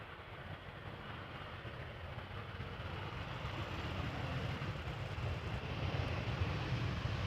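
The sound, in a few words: airliner landing at Amsterdam Schiphol Airport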